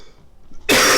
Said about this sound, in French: je tousse beaucoup tout d'un coup